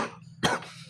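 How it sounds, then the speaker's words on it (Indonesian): A single short, harsh cough from someone who is ill, close and loud, with faint breathy sounds around it and no speech. "Maaf ya kalau saya lagi agak batuk-batuk"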